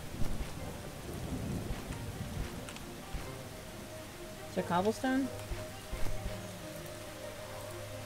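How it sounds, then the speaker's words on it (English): Steady rain in the video game Starbound patters throughout with a low rumble beneath, while a person speaks briefly partway through. "And it's raining."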